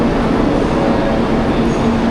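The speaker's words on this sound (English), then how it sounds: "this Shinkansen Kyushu 800" A Shinkansen Kyushu 800 bullet train at a station, a loud, steady broadband rumble and rolling roar close by, continuous with no voices.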